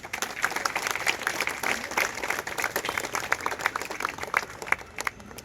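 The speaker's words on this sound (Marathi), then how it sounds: "त्यांच्यासाठी एकदा टाळ्या होऊ द्या" A crowd at a patriotic public gathering in Mumbai bursts into sustained applause for the soldiers: dense, steady clapping from many hands that keeps going for the whole stretch at an even level.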